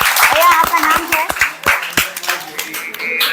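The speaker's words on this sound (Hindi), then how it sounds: "भैया के लिए जोरदार तालियां।" Enthusiastic applause from an audience at a monthly community meeting, a burst of clapping that fades under someone speaking.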